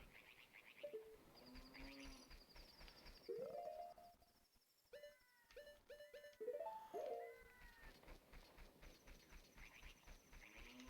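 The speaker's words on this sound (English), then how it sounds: "Aren't those thieving birds? There's a lot of them flying over." Thieving birds flying over in the video game The Legend of Zelda: Ocarina of Time, with faint cooing and warbling bird calls over quiet game tones and music, no talk.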